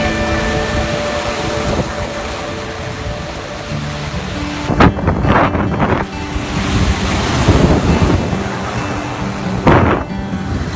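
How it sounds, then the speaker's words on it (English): Ocean surf after Hurricane Matthew roars steadily under heavy wind noise on the microphone, with several waves crashing loudly in surges. "So these are some post-hurricane Matthew waves right here."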